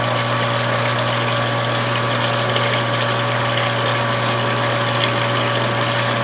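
Water gushes steadily into a 10-gallon brewing pot partly filled for nut brown ale, a continuous close rushing pour with a pump-like hum beneath and no talking.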